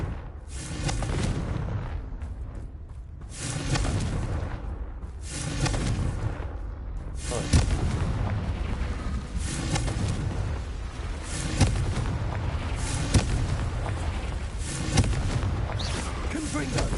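Confringo spell blasts in Hogwarts Legacy, a series of deep booming explosions at irregular intervals with rumbling tails, loud and close, alongside repeated spoken incantations.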